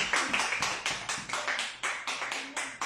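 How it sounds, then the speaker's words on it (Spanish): A church congregation claps together in a quick, fairly even rhythm, each group of claps swelling and fading in repeated bursts, close and fairly loud, with no voices over it. "Glorifique a Dios, déle el aplauso a Dios grande."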